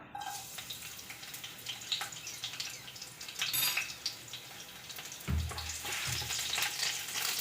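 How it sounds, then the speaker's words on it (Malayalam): Chopped garlic sizzles in hot sunflower oil, a soft, fairly quiet crackling hiss that keeps going, with a brief low knock of the pan partway through. "നമ്മുടെ ഓയിൽ ഒന്ന് ചൂടായതിനു ശേഷം നമ്മൾ കട്ട് ചെയ്ത് വെച്ചേക്കുന്ന വെളുത്തുള്ളി ചേർത്ത് കൊടുക്കാം"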